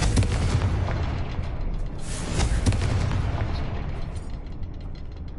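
Confringo fire spell explosions in the video game Hogwarts Legacy boom heavily, a dense rumbling blast sustained for several seconds with a couple of brighter bursts near the middle, loud with no talk.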